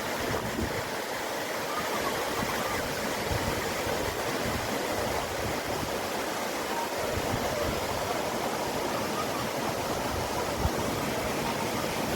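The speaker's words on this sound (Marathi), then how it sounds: "भरून ओव्हरफ्लो झालेला आहे रानसे डॅम" Water overflowing the Ransai dam at Uran, Raigad, roars as a steady broadband rush of falling water in heavy rain, continuous and fairly distant with no voices.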